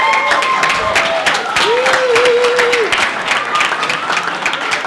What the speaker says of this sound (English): Big round of applause for Denise